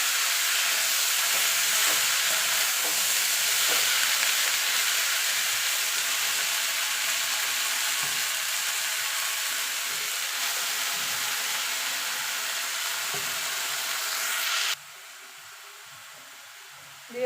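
Amaranth leaves added to hot oil with fried lentil dumplings, a loud continuous sizzling hiss as the greens cook and are stirred, easing slightly before cutting to a quieter room tone near the end, no speech.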